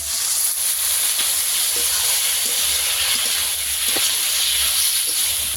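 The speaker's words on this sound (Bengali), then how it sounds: "সামান্য একটু জল দিয়ে দেবো।" A splash of water hits a hot pan of spiced snakehead fish curry with eggplant, setting off a loud, steady hiss and sizzle that carries on evenly, with no one talking.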